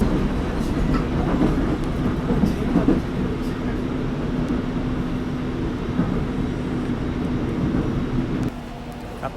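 Inside a moving Korean passenger train, a steady low rumble and rolling clatter of the carriage with faint squeaks, continuous and fairly loud, easing down slightly at the very end.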